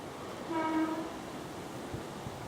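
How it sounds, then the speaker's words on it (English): A train passes on a railway line near a countryside walking route in Kent's North Downs, marked by a short, steady horn blast that rises above a constant background rumble before fading back into it. "Just a reminder there that we're not far from the railway line either."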